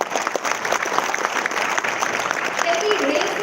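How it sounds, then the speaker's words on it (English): An audience at the Rangamanch 2026 inauguration ceremony applauds: a steady wash of clapping that holds throughout, with a voice faintly audible over it. "Again, a big round of applause."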